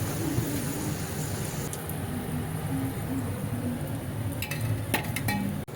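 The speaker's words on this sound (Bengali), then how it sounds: "ডুবো তেলে ভালো করে এদিক ওদিক ভেজে নিলেই রেডি ফুলকপির সিঙ্গারা" Cauliflower singara deep-frying in hot oil, a steady dense sizzle that runs unbroken throughout, with a few light clinks of a utensil near the end.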